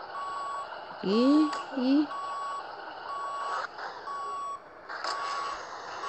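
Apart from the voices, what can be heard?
truck reversing beeps while positioning to hitch, Grand Truck Simulator 2 video game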